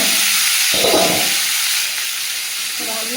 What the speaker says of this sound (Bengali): ফ্রাইপ্যানটা চাপিয়ে দিয়েছি, উচ্ছে আর আলুটা ভেজে নেব।